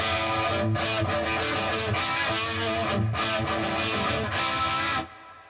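Heavily distorted electric guitar chords through an MXR Custom Shop Duke of Tone overdrive pedal ring out loud and dense, with a few brief gaps between strums, then cut off abruptly near the end.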